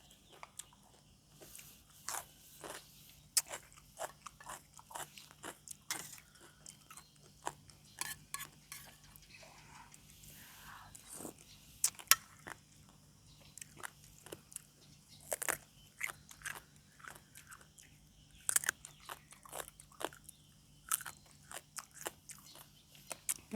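Someone bites and chews a spicy Thai lotus stem salad with fresh shrimp, giving repeated sharp, wet crunches at an uneven pace over a quiet background, close to the ear, with no speech.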